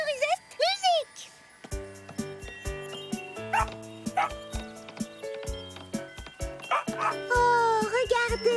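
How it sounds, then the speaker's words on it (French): A pair of cartoon dogs yip and bark in rhythm over bouncy music, the short high barks coming in quick bursts, some with whining slides, alongside a voice calling out. "Oh, regardez, un duo de chiens dansants"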